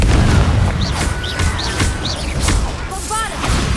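Repeated booming blasts from the Confringo fire spell in the game Hogwarts Legacy, loud and close, mixed with magical whooshes and swooping tonal effects and layered over busy combat noise.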